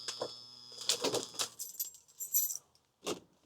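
Car keys for a 1971 Lincoln Mark III jangling up close, bright metallic clinks in irregular bursts, followed by a brief pause and one last rattle.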